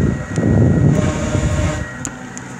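A newly installed furnace blower motor running on its first stage, a steady broadband rumble and airy whoosh that stays fairly constant throughout, with a few faint high clicks.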